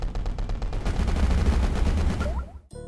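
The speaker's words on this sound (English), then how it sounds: "There's bullet spam all over the screen." Rapid bursts of bullet fire in the Galaxy Ace shoot-'em-up game, a dense, fast-repeating electronic gunfire stream that runs continuously before cutting off abruptly, followed by a brief chirpy tone.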